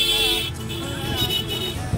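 A car passes close on a road and gives a short horn toot amid steady engine rumble and traffic noise, with no talk over it.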